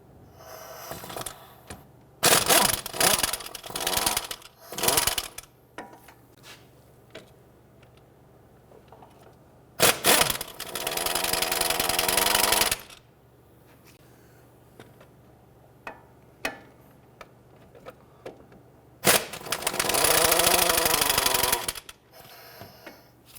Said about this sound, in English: I'm going to loosen and remove all of these bolts.